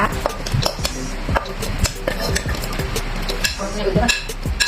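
Thai curry paste ingredients such as galangal and chilies pounded in a mortar with a pestle: a rapid series of dull, close thuds with light clattering, beating in an uneven but continuous rhythm.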